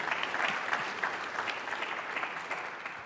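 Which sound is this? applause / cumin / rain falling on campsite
applause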